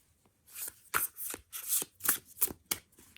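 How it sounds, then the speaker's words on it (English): A Knight-Waite tarot deck, a slightly oversized card deck with gilded edges, is shuffled by hand in a run of quick riffling bursts, close and fairly loud, with short pauses between them and no talking. "Shuffles okay in my hand."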